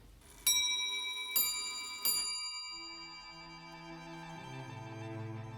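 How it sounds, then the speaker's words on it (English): A Joseph Knibb clock made in London in 1680 strikes on its large and small bells: three sharp, ringing strikes on one bell, each left to decay, then a softer, lower chime rising near the end in a quiet room. "the large bell, giving a lower tone, is sounded to represent the V and X, and a small bell with higher tone is sounded to represent the ones"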